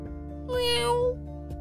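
A cat meows once, a clear drawn-out meow heard close and alone against a steady background hum.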